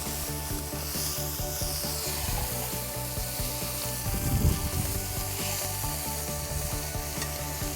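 Steak sears in a very hot pan, a continuous close sizzle with a brief louder burst of crackle midway, no voices.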